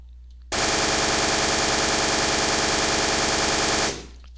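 A DP-28 machine gun fires in Flan's Mod for Minecraft as one loud, unbroken burst of rapid automatic fire lasting about three seconds, then cuts off abruptly.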